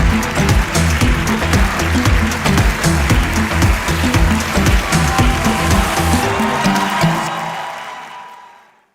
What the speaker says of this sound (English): There you go, a round of applause for Canex.